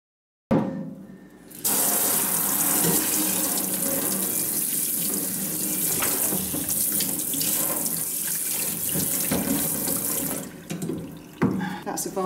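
Running tap water pours steadily into a sink while a clay amphora is scrubbed with a brush and soap nuts, a continuous close splashing rush that starts after a brief pause and fades slightly near the end.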